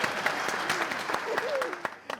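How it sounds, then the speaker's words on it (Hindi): A comedy-show audience breaks into steady applause with some crowd noise, while a voice talks over the clapping. "बजा लो जरा सब ताली बजा लो"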